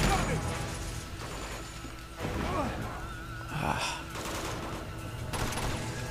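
Gunfire from Uncharted 2: Among Thieves is heard through a busy stretch of game combat. Several bursts and impacts rise over a steady background, with a grunt-like vocal sound mixed in.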